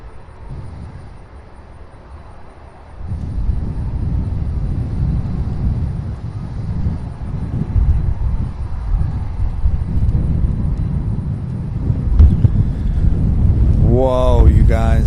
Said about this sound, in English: that flight out of San Diego, California, UPS 2921, turning now